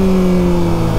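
A Honda CBR600RR or Yamaha R6 sport motorcycle engine drones loudly at high revs, a close, continuous buzzing tone with no break in this short stretch.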